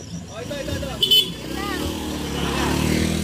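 A motorcycle engine revs and passes close by, with a brief horn toot and people talking and calling out over it.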